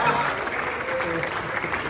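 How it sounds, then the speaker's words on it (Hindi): Steady, dense applause from a live audience at a Hindi comic poetry gathering (hasya kavi sammelan) fills the two seconds at an even level, with a faint murmur of voices mixed into the clapping. "अरे तालियां बाबा, क्या बात है।"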